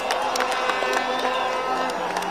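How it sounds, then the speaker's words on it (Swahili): A crowd at a roadside groundbreaking ceremony for the Rironi–Mau Summit dual carriageway claps and cheers for the Kenyan President; close, continuous applause with sharp individual claps and excited voices throughout. "Tumshangilie Mheshimiwa Rais kwa makofi."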